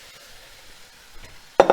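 Garlic, fennel and leeks hit a hot pan for a Polish sausage stew, producing a sudden loud burst of sizzling hiss at the very end after near silence.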